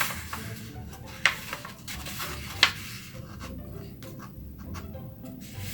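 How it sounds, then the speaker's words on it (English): Origami paper is folded over to make a square: soft rustling and sliding of the sheet, with two sharp crisp creasing snaps close by, and no talk during it. "We are going to create a square. So to do that, we're gonna fold it over."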